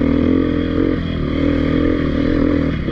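A Beta 350 dirt motorcycle climbs an uphill trail at a 2019 demo day, its engine held at high revs in a loud, steady, buzzing drone close to the rider.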